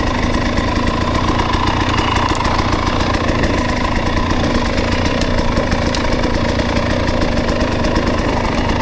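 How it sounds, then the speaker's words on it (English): A dirt motorcycle engine running at Carnegie SVRA off-road park, a loud, steady close-up drone with a rough idling rumble that holds constant from start to end with no talk. "the bike is running good, man"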